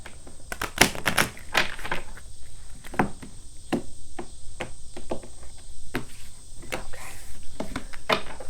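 Tarot cards being shuffled during a love reading, a series of crisp, papery flicks and riffles with irregular rhythm, close and moderately loud over a steady high background hiss.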